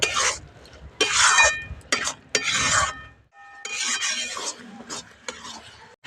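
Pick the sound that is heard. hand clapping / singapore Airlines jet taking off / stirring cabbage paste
stirring cabbage paste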